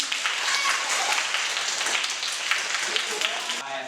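A classroom of students clapping in a dense, continuous burst of applause after a pupil's exam score is read out, fairly close and lively, with voices mixed in.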